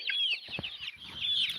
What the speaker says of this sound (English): this is where we are raising our roadrunner chickens